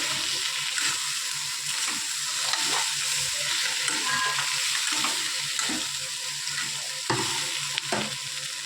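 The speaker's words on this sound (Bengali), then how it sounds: "পোস্তটা দিয়ে সামান্য একটু জল দিয়ে দেবো" Poppy seeds with a little water sizzling in a hot pan for aloo posto, a steady close frying hiss broken by repeated scraping stirs, with no voices.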